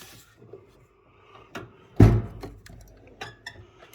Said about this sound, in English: Next drawer.